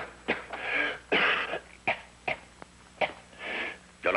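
A colonel with a persistent cough hacks and clears his throat in a series of about six sharp, close bursts with short pauses between them.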